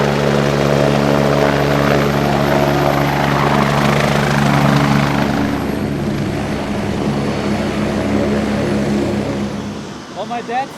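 Loud, steady helicopter rotor thumping and engine roar close by, fading slightly toward the end.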